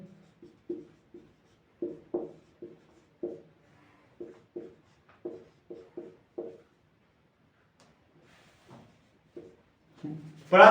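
Pen scratching on paper in short bursts of strokes, quiet and close, writing out a maths problem step by step, with a louder sound at the very end.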